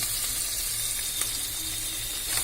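Onions with garam masala and biryani masala powder sizzle steadily in a pan for chicken dum biryani, a continuous close frying hiss with faint stirring and no talking.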